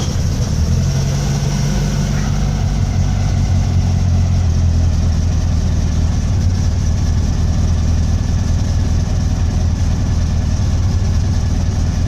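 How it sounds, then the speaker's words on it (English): A cold car engine with CB Performance Gen4 EFI idles steadily close by on a cold day, a low continuous hum with a slight rough edge and no talking. "Engine idles without issue."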